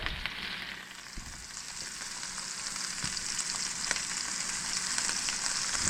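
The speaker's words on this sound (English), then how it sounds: "Alright, our pan is nice and hot. I'm going to take our steak, And put that right into the pan." A steak sears in a hot pan, producing a steady, fairly quiet hiss and crackle that builds slightly after a soft thud at placement, with occasional spits and no voices.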